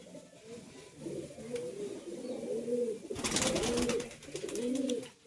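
Pigeons cooing close by in repeated soft, throaty bursts, with a brief rustle of wing flaps partway through; these are high flying pigeons.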